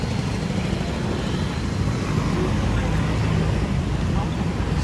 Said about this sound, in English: even though we have a lot of cars, a lot of traffic